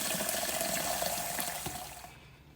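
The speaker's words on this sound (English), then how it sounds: "get your water as hot as it'll get from the faucet. We're going to fill this cup up." Hot water streams steadily from a tap into a cup, a close, continuous splashing rush that stops abruptly near the end.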